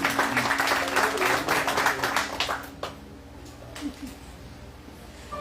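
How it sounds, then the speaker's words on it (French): A church congregation applauds for the Lord during a sermon, loud dense clapping for about three seconds that fades to a few scattered claps over a low sustained keyboard tone. "Passez un applaudissement par le Seigneur"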